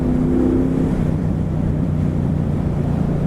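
A 2017 Triumph Bobber motorcycle's engine rumbles steadily at close range, a low continuous throb mixed with rushing wind noise while riding, with no talking.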